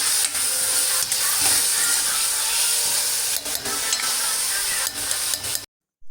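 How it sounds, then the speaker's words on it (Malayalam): Ginger-garlic paste sizzling steadily in hot oil for fish masala, a loud continuous frying hiss with a few stirring bumps, then a sudden cut to silence at the end. "ഇതിലേക്ക് ആവശ്യമായ കുറച്ച് ഇഞ്ചി വെളുത്തുള്ളി പേസ്റ്റും കൂടി ഇട്ട് കൊടുക്കണം"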